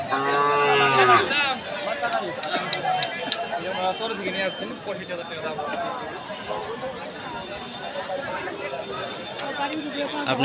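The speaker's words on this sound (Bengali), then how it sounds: "এই যে দেখতে পাচ্ছেন অসংখ্য অসংখ্য গরু উঠেছে এই হাটটিতে" Cattle moo loudly up close at first, then a busy crowd chatters over more distant lowing and animal noises at a village cattle market in Nagarpur, Tangail, Bangladesh.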